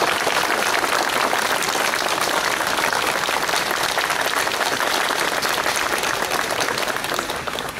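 An audience at a monument unveiling for Wojtek the bear, soldier of Anders' Army, in Kraków gives loud, sustained applause that fills the whole stretch and eases slightly at the very end.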